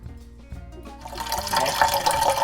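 Tap water runs into a cooking pot holding clean potatoes, a steady splashing pour that swells louder as the pot fills, with no talking over it.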